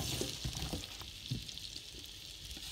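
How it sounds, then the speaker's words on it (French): Apple pieces fry in melted butter in a pan, giving a steady, soft sizzle with small crackles and pops throughout. "Mon beurre est fondu, je vais maintenant y mettre mes pommes."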